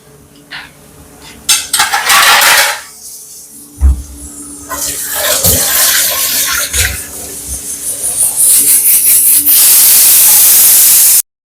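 Steam hisses from a pressure cooker on the stove while kappa (tapioca) cooks, with scattered knocks and clatter before a loud, steady jet of steam builds and fills the final seconds close by.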